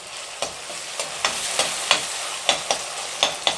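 Peas sizzling in a frying pan for spicy masala Maggi as a spoon stirs them, about ten crisp scraping strokes over a steady hiss, close and with no talking.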